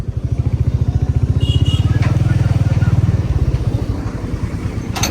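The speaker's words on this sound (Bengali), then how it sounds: "প্রচুর জ্যাম ফারাক্কাতে এত পরিমাণে জ্যাম যে বাইকও এরকম গুড়গুড় করে চলছে" A motorcycle engine rumbles at low speed in heavy traffic at Farakka, with a steady, close, pulsing throb that eases off near the end, and a brief faint clatter at the very end.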